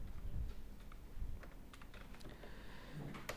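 Fingers tap an SQL query into a computer keyboard, producing quiet, irregular clicking keystrokes with soft thumps in the low end, with no talking.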